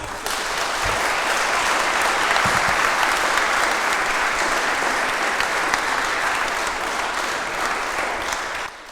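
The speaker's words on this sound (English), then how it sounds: "So, thank you. Big applause." Audience applause fills a hall at the close of a panel event, with dense, steady clapping lasting several seconds before fading slightly at the end.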